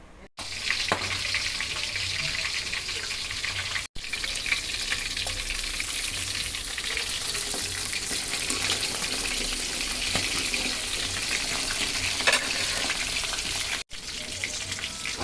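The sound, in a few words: milkfish frying in a hot pan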